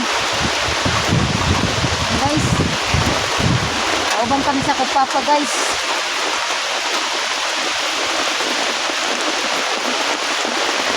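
Heavy rain and strong wind in a steady roaring wash, loud and continuous throughout, with gusts buffeting the microphone while someone talks over it for the first few seconds.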